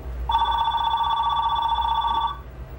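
A single telephone ring sounds loud and clear for about two seconds, a bright, steady bell tone over a low background rumble, then stops.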